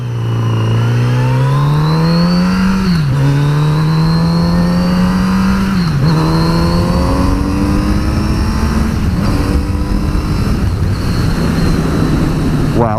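A 2018 Kawasaki Z900RS motorcycle engine revs hard and accelerates through the gears while riding, loud and close, its pitch climbing and dropping at each shift, with faint wind noise and a voice briefly underneath.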